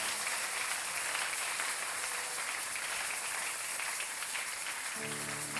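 A church congregation at a prayer session applauding the Lord, with steady, sustained clapping from many hands filling the room at an even level throughout.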